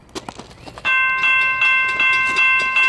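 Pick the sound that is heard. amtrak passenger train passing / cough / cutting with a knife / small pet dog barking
amtrak passenger train passing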